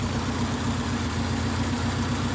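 A car engine idles steadily after a distributor ignition-timing adjustment, its low rumble and even pulsing continuous and close for the whole stretch with no voices.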